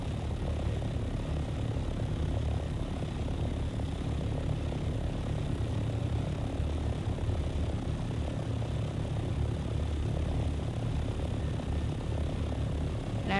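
Ornithopter flying in the video game Dune, a steady droning engine-like whir holding at an even level throughout, continuous and unbroken with no talk.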